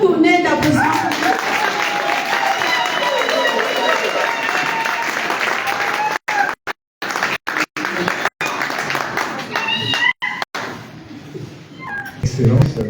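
Audience applause fills a hall at the finale of an MRC party challenge, a dense, sustained clatter of many hands with voices mixed in, breaking off in short gaps near the end.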